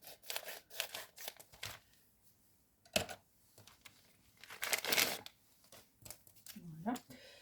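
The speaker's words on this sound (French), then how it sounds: "je vais prendre une paire de ciseaux pour l'ouvrir" Scissors snip and tear at a well-wrapped package from a Temu order, with crinkling plastic and paper rustling in short bursts between pauses, close and moderately loud.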